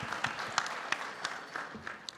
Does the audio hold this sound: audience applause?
yes